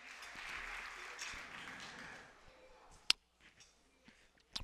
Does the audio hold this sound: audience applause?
yes